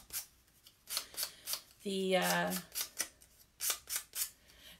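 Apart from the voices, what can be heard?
scissors cutting out a traced shape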